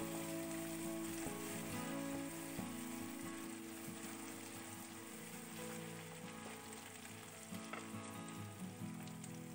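Green chili sambal fries in a pan, giving a steady, dense sizzle. Occasional scraping stirs sound close by, and no talk is heard over it.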